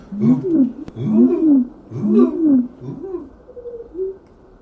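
A person whistles and vocalizes an imitation of nightingale song, with warbling, sliding phrases repeated in short bursts, close and fairly loud, fading to a softer trill near the end.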